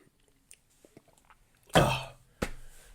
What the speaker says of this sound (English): How much coughing can I do in one video?